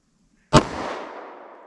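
A single sharp .38 Special +P shot with Winchester Silvertip 125 grain ammunition from a short-barrelled gun, a loud close crack after brief quiet, trailing into a long fading outdoor echo.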